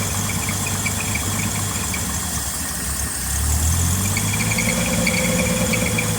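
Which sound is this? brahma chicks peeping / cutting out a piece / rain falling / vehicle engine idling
vehicle engine idling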